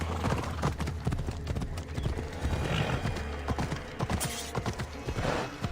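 Rapid, rhythmic hoofbeats of a galloping horse in the video game Assassin's Creed Odyssey, close and steady, with a brief whinny mixed in.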